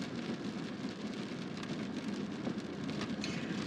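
Rain falling during a drive on a curvy highway beyond the Black Hills, a steady dense patter on the vehicle with a constant road rumble underneath, no talking.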